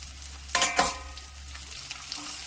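Onion, green chillies, garlic and a handful of mint leaves sautéing in a pan for tomato mint chutney, with a soft steady sizzle and two brief stirring scrapes near the start.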